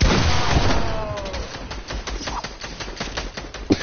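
Sniper rifle fire in a multiplayer shooter game: a dense run of sharp gunshot cracks, loud and close at first, then a looser scatter of shots and impacts over the game's background noise.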